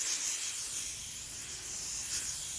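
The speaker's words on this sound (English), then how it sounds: "spray the entire mattress and the pillows" Steady hissing spray of disinfectant misted over a bare mattress and pillows, a close, continuous aerosol burst lasting a few seconds.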